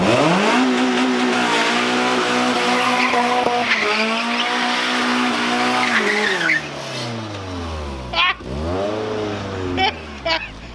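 A Nissan S15 drift car's engine screams near the rev limiter, then tires squeal loudly as it drifts, with engine pitch sweeping up and down; voices come through briefly.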